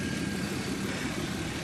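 A Chevrolet Equinox engine idling steadily as it warms up, a constant low rumble with broadband hiss and no change in speed over the short stretch.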